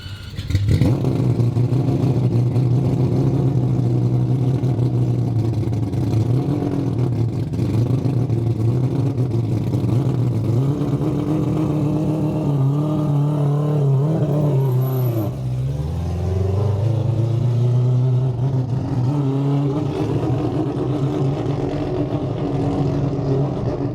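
An AWD four-rotor rotary engine car holds a loud, steady drone on a dyno as it warms up, with a brief dip and swooping pitch change around the middle before settling back into the sustained roar.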